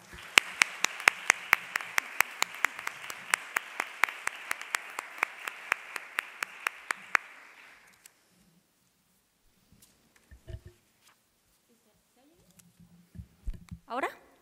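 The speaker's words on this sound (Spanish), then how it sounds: "Le damos un cariñoso aplauso." Audience applause at an institutional International Women's Day event, steady clapping for about eight seconds that fades out, followed by quiet room noise and a few scattered knocks and shuffles.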